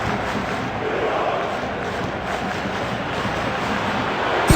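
A football stadium crowd in a video game match between Algeria and Morocco roars as one continuous, dense wall of cheering that swells slightly toward the end.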